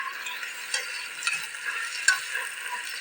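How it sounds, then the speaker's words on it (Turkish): Food for lentil soup sizzles and crackles steadily in a hot five-kilo pot, with occasional scraping stirs and small pops, moderately close and no voices. "Büyük tencerede yaptım. Güzel kavurayım arkadaşlar."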